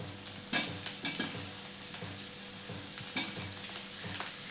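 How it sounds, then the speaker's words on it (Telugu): Potato masala sizzles and crackles in a hot pan while being fried, with a spoon scraping and stirring through the potato pieces in a few distinct strokes; no voices over the steady frying. "5 మినిట్స్ వరకు మనం ఇలా వేపుకొని"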